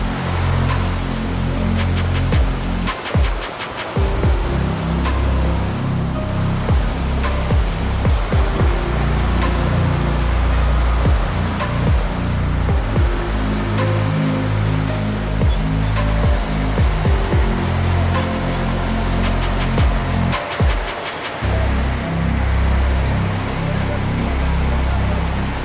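A turbulent river several metres deep roars in a steady, loud, continuous wash of water noise, unbroken throughout with only slight surges.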